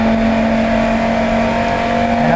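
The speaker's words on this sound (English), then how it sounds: "I'm going to turn on our coolant pump and fan." Noisy coolant pump and fan running during a main fuse test, loud constant droning whir with strong steady tonal hum throughout.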